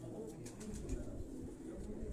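Pigeons kept by a Quetta pigeon fancier coo softly at close range, low and faint against a steady background murmur, with a few thin higher chirps scattered through.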